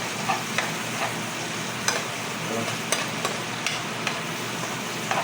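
Oil sizzles steadily in a pan while squid adobo fries, with a continuous crackling hiss broken by occasional sharp pops and ticks of spattering oil.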